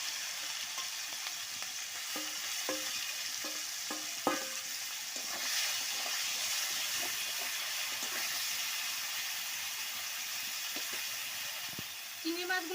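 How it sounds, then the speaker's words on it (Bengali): Shrimp fry one by one in hot oil in a wok for a Bengali jackfruit-and-prawn dish, giving a loud, steady sizzling hiss with scattered spatters and stirring clinks, and a voice occasionally heard underneath. "এবার আমি একে একে চিংড়ি মাছগুলো এর মধ্যে দিয়ে ভেজে নেব।"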